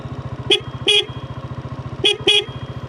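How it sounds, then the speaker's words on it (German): Car horn honked at sheep out on the Mongolian steppe, two pairs of short toots over a steady idling engine rumble, close and loud. "mal gucken, ob sie auf Hupen reagieren"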